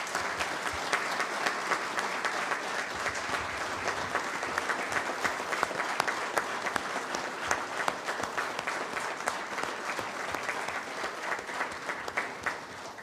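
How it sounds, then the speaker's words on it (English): Sustained congratulatory applause from companions and friends at a Masonic annual installation ceremony, a steady, moderately distant patter of many hands clapping for over ten seconds without talk. "congratulatory round of applause."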